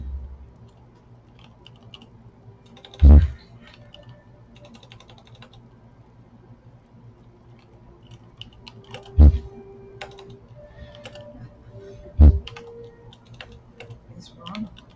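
Someone types on a computer keyboard while playing the online game ESO, with scattered light keystrokes and three heavier thumping key presses spread through a quiet room.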